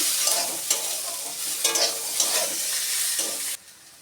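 Dal lentils fry in a pan without water over raised gas heat, giving a steady sizzle with stirring scrapes that cuts off abruptly near the end.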